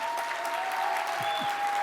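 Keynote audience claps for Brenda Reddy, a brief burst of steady, moderately loud applause from a crowd with a faint tone running underneath.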